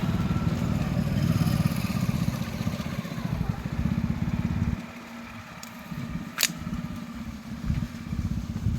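A motorcycle engine runs loud and close, then drops to a lower, quieter idle as the bike is brought to a stop, with a brief sharp clatter near the end.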